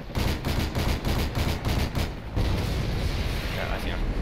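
Rapid gunfire in Call of Duty MW2, a fast burst of closely spaced shots over the first two seconds, then a dense, loud roar of action with a voice talking over it.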